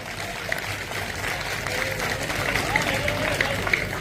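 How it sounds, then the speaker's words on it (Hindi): An audience at a Hindi poetry recital claps in a continuous wash of applause, with a voice speaking over it. "आप ढंग से तालियां बजा लो यार एक बार।"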